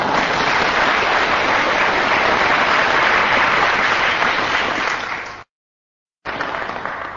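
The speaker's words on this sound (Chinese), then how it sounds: "你从大家这个掌声，热烈的掌声，你听出来了没有" Warm, sustained applause from a live audience at a Chinese crosstalk comedy show, dense and steady clapping that cuts off abruptly, falls silent briefly, then surges back.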